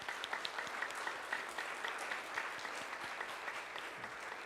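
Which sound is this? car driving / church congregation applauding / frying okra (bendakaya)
church congregation applauding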